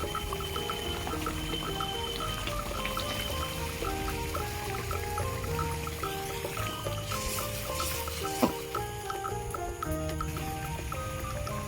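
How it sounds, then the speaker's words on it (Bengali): Water is poured into a pan of frying Amudi fish curry, a steady liquid pour heard under continuous background music, with a single sharp knock near the end. "এবার আমি একটু জল দেবো"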